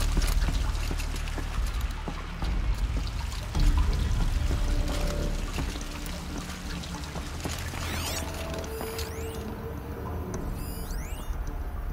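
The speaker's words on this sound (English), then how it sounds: "The water's flowing, just not where it needs to." Steady pouring, trickling water in Horizon Zero Dawn: The Frozen Wilds, a continuous liquid flow at moderate level with faint mechanical clinks and chimes over a low ambient bed.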